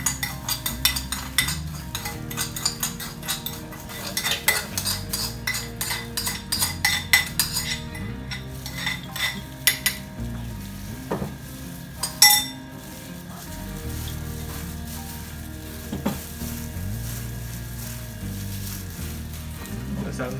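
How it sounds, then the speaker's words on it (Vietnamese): Banana blossom salad being tossed with smoked buffalo meat in a bowl, with repeated soft rustling, wet mixing and clinks of utensils against the dish, plus a few sharper knocks. "Đây là chúng ta trộn đều đấy."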